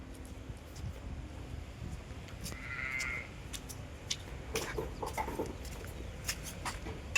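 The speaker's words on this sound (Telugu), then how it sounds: "గొర్రెలు చూడండి ఎట్లున్నాయో, మేకలు." Sheep and goats penned in the desert, with fans running nearby, give a single clear bleat in the middle of a steady background hum, with a few faint calls and clatters scattered around it.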